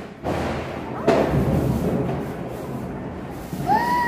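A firecracker at a Diwali celebration gives a sharp bang, then a second louder crack about a second later, with a crackling fizz trailing off as people talk and call out nearby.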